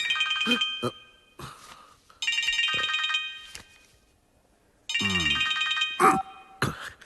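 Telephone ringing in a Malayalam comedy film scene with Sreenivasan: repeated bursts of an electronic ringtone, loud and close, separated by short gaps, with brief voices between rings.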